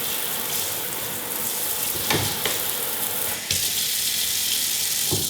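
Water from a tap runs steadily into a Zuhne Modena 30-inch stainless steel undermount single-bowl sink, a continuous hiss heard from several feet away with a few soft clunks.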